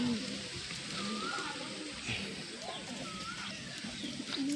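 Racing pigeons coo in a soft, repeated pattern against a steady outdoor hiss of background noise, with a faint voice or two occasionally mixed in.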